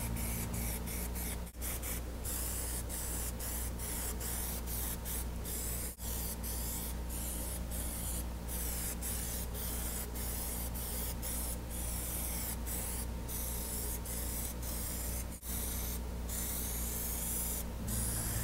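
Aerosol spray of Plasti Dip True Metallic coating hisses continuously while a thin first coat goes on, a loud, steady spray broken by a few short pauses between passes.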